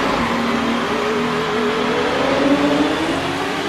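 Formula One race cars from the 1955 Dutch Grand Prix roar off the start, a dense, loud, continuous engine drone with rising revs and no talk.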